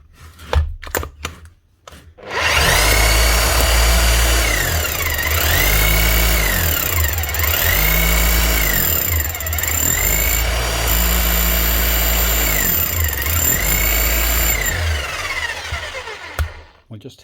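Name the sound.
rotary hammer running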